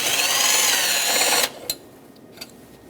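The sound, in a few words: removing battery hold-down nuts with 10mm deep socket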